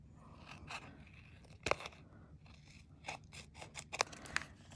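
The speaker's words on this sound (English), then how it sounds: "now I'm going to cut out my little strips" Scissors snip through strips of metal tape in a series of separate cuts, crisp close clicks and scrapes scattered irregularly over a quiet background, with no talking.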